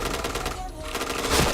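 Rapid automatic gunfire in the online shooter Point Blank, loud, close bursts of dense rattling shots that briefly thin out midway before picking up again.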